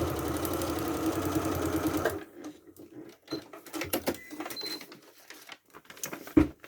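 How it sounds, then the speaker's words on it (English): A sewing machine runs steadily for about two seconds, stitching straight across pieces of fabric, then stops, leaving quiet handling noises and a few soft clicks. "I'm going to sew straight across this one."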